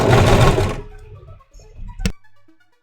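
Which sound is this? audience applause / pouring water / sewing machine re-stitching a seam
sewing machine re-stitching a seam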